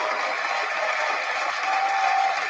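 Steady, dense applause from a crowd, fairly loud and unbroken for the whole moment, with no voices on top.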